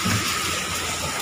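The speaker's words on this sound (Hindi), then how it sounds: "अब बारिश भी खतरनाक हो गया" Heavy rain pours steadily in Delhi, a dense, even hiss of downpour filling the short moment with no voices.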